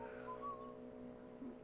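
A man whistles in a bedroom, a short, faint, clear tone that slides in pitch for about a second, with a quieter chirp near the end.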